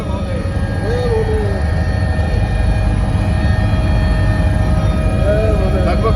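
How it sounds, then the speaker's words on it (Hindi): A helicopter bound for Kedarnath drones as a dense, steady low rumble that fills the whole stretch, near and constant. "अब हम हेलीकॉप्टर से जा रहे हैं बाबा केदारनाथ के दर्शन करने के लिए।"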